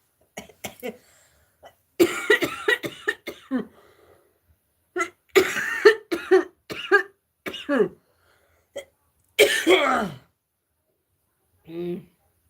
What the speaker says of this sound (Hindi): मेरी खांसी आ जाती है